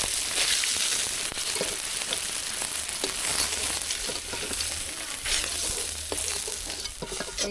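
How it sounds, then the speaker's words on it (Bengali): Potato pieces fry in hot oil in a wok already used for frying fish, a continuous dense sizzle with frequent stirring clatter and crackling, close and steady. "এই একই কড়াইতে আলুগুলো ভেজে নেবো।"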